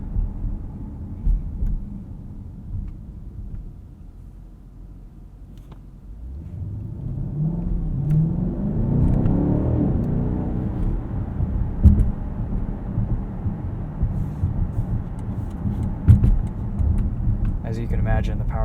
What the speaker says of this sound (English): there's just enough of a burble from the exhaust that you feel like you're driving something special